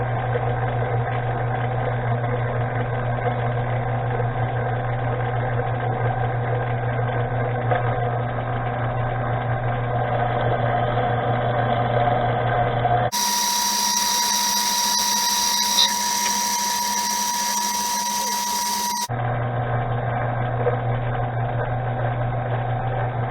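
A metal lathe turns a bolt at slow feed, a steady mechanical whine with a low motor drone throughout, changing to a higher, thinner tone for several seconds midway before the original hum returns.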